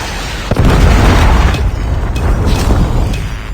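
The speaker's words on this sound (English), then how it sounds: "Friendly Predator missile inbound." A Predator missile strike in Call of Duty multiplayer lands as a loud sudden boom, followed by a sustained rumbling roar that stays heavy for several seconds amid game noise.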